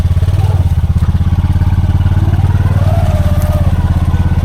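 Honda Pioneer 500 side-by-side idling high in a pond, a loud, close engine chugging with a steady rapid pulse throughout, with faint clatter on top.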